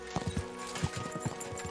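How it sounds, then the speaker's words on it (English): Horse hooves clip-clop in a quick, uneven rhythm in the medieval game Kingdom Come Deliverance 2, moderately close and fairly quiet, with no talk over them. "We should spur the horses on."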